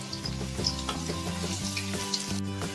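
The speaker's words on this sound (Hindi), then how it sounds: "अब इसमें हम पकोड़े बनाएंगे। अब इसको हम अच्छे से फ्राई कर लेंगे।" Corn pakoras deep-fry in a pan of hot oil with a constant, close bubbling sizzle, broken by occasional light taps and stirring clinks.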